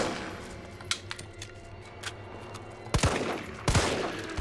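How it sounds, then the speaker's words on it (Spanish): Gunfire in the video game Resident Evil 3 Remake: sharp shots crack against a low rumbling background, a few scattered ones early and then two louder blasts near the end. "Voy a empezar a pegar tiros, pero como si no hubieran mañana"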